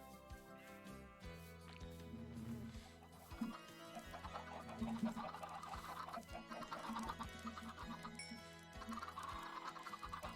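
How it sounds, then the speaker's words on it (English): Chickens cluck repeatedly in a Minecraft-style large-biomes single-player game, mixed with soft background game music and chimes, steady and moderately close. "Still got baby chickens in there."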